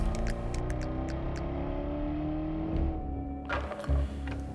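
A Jaguar F-Type SVR's V8 engine droning steadily and loudly with a rich low rumble, then rising in a brief rev with crackling bursts near the end.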